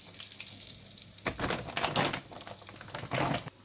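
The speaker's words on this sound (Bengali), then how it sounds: "সেই জন্য এটা আমি ফ্রেঞ্চ ফ্রাই করছি" French fries frying in hot oil, a steady broadband sizzle with louder crackling bursts near the middle and end, close and continuous with no talking.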